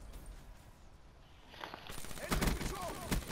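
Gunfire in the video game Call of Duty Black Ops 3 during a sniper fight: quiet at first, then a dense run of sharp, loud shots and bursts that fills the second half.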